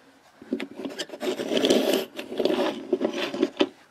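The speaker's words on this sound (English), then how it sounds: "So, Dennis, how do you feel now, after sawing all that with Rosie?" A handsaw rasps through wood in a basement, its uneven scraping strokes filling a few seconds close up with short pauses between pushes, and no voices.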